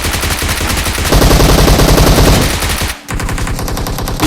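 Automatic weapon fire in the BGMI battle royale game, loud rapid bursts of machine-gun shots, a brief pause, then more rapid shots.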